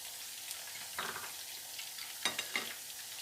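Mutton koftas fry in oil with a soft steady sizzle and a few brief clinks of a utensil stirring, close but fairly quiet, no one talking.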